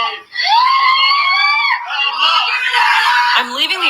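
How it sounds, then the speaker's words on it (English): A woman being tortured screams in a recording, one loud, sustained, high-pitched wail that wavers and shifts in pitch, close and unbroken for several seconds. "I'm leaving the audio on so you can hear her screams"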